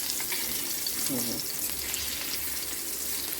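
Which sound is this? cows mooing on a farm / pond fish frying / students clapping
pond fish frying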